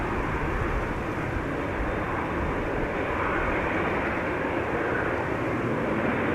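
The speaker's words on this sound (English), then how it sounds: "Our next airplane is approaching." A Delta Airlines jet approaching Schiphol's runway 27 after a long flight from Minneapolis makes a steady, broad engine roar that holds at an even level throughout, with no speech.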